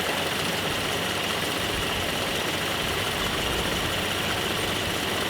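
Nissan 720 ST truck engine, a Datsun pickup restarted after years sitting, running rough and in need of a tune, with a steady close, loud idle rumble and vibration.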